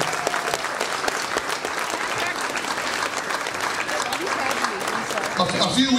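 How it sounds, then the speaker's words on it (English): Audience applause at a St. Baldrick's head-shaving fundraiser, a sustained, dense round of clapping from a sizeable crowd lasting the whole stretch, loud and steady without pause. "let's give everybody a round of applause for being here."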